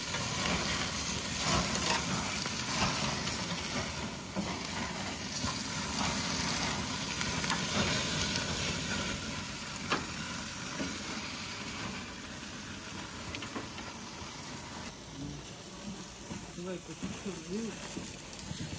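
Steady sizzling and crackling of shashlik grilling over hot coals outdoors, close by, with people talking throughout.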